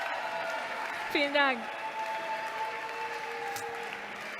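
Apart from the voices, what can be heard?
audience applauding at song contest final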